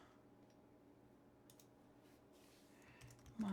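A computer keyboard is typed on quietly in short irregular bursts of soft clicks, close but faint, in an otherwise quiet room, with a louder tone arriving at the very end.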